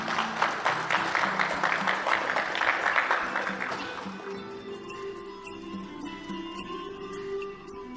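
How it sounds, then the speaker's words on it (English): Applause for the President at a formal New Year event with ambassadors, a round of clapping that fades after a few seconds into quieter room noise with light clinks. "Please, a big round of applause to the President"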